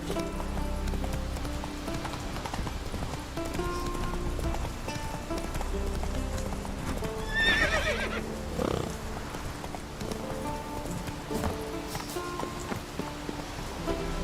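Horse hooves clip-clopping at a run with a neigh in The Witcher 3 game, steady galloping rhythm under faint game ambience.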